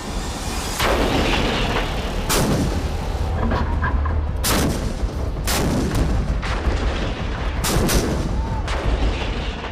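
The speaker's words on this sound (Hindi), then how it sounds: "तोपों की इस गर्जना से भारतवासियों का विश्वास जगता है और दुश्मन का हौसला हिल जाता है।" Indian Army artillery cannons fire in a sequence of six or seven loud, sharp booming blasts, spaced a second or two apart, each rolling into a reverberant rumble over a continuous low background.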